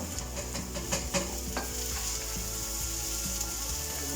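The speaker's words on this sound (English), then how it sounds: "we're just going straight in with the onions" Onions dropped into hot oil on a high heat, sizzling steadily while being stirred, with scraping spoon strokes over a constant frying hiss.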